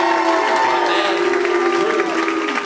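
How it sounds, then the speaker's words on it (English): A stand-up comedy audience applauds and cheers in a steady, dense wash. A voice carries over the crowd noise throughout. "Have a round of applause for him."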